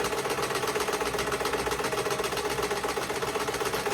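A sewing machine stitches a homemade cloth face mask, running with a fast, steady mechanical chatter that stays close and loud throughout, with no voices.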